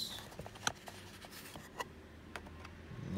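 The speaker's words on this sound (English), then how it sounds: "let's go ahead and unwrap this" Quiet crinkles, soft taps and a few sharp clicks sound close by as packaging is unwrapped from Nismo blue mirror covers for a Nissan R34.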